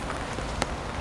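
Rain patters onto a botanic garden pond's water surface as a steady, soft hiss, with one brighter splash-like tick briefly standing out.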